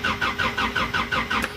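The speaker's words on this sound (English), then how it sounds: "It won't start because it needs the fuel pump." A 1993 Toyota pickup's engine cranks but does not catch because the fuel pump is missing. The starter churns in a rapid, even rhythm of roughly six pulses a second, loud and close, with no voices.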